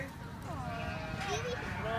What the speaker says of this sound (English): That's AJ's goat right there.